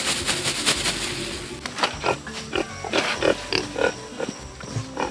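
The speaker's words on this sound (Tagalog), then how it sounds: "Itong trimmings natin, pwede natin ito ibigay sa baboy natin." A backyard pig eats vegetable trimmings, its grunting, snuffling and wet chewing up close and continuous with irregular louder snorts, over outdoor background noise and no speech.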